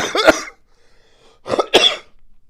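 A few harsh, close coughs: one burst, a pause, then two more in quick succession, with nothing else in between.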